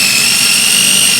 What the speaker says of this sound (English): let's get our chimichurri all blended up